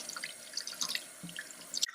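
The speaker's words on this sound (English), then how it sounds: "And then you're just going to use the water and" Water runs from a tap over gym gloves being washed with soap, giving a steady close splashing with small drips and a brief stop near the end.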